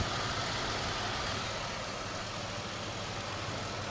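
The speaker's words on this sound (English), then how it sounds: "Yeah, the compressor's spinning. Yeah, I see the clutch is engaged now." A car engine idles with its AC compressor running and the clutch engaged, producing a steady broadband drone and hum close by that holds constant throughout, without voices.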